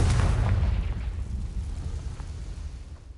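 A Confringo blasting spell exploding in Hogwarts Legacy, a deep booming blast that rumbles loudly at the start and slowly fades over a few seconds.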